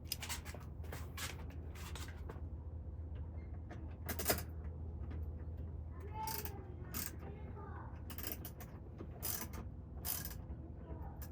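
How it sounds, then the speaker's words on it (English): A T20 screw is loosened with a driver while a head-up display is being installed in a car, producing quiet clicking and ratcheting ticks in short irregular bursts against a low background hum. "This one has a screw right here, so we're gonna loosen that screw."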